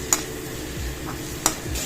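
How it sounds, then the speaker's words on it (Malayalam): Chopped onions sauté on a high flame in a pan for chilli chicken, a low steady sizzle broken by two sharp metallic clicks of a spatula against the pan. "ഇതിലേക്ക് നമുക്ക് അരിഞ്ഞു വെച്ചിരിക്കുന്ന സവാള ചേർക്കാം. ഹൈ ഫ്ലെയിമിൽ നമുക്കൊന്ന് സോട്ട് ചെയ്തെടുക്കാം."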